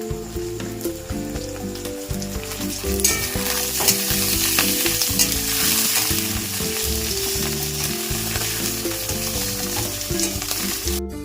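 Chicken pieces frying with onion and garlic in hot oil for a Bengali chicken stew, a dense continuous sizzle under frequent vigorous stirring and scraping, close up with no voices.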